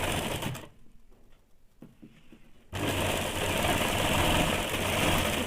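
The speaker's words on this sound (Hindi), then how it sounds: "इसी प्रकार से दूसरे साइड का भी सिलाई कर लेंगे।" Sewing machine stitching a saree-matching blouse seam, a steady whirring run that stops for about two seconds, with quieter handling and clicks, then starts again loud and continuous to the end.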